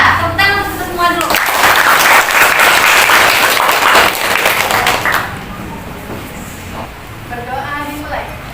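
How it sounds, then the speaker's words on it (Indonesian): A school audience at an SMK vocational school event breaks into loud, dense clapping for everyone, rising and holding for several seconds and then fading, with a voice speaking before and after. "tepuk tangan untuk semua dulu."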